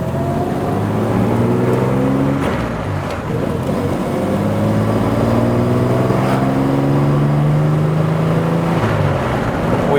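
A 1957 Jaguar XK150 fixed-head coupé engine runs steadily while driving, a loud, continuous in-cabin drone with gradually rising and falling pitch as it pulls through the gears.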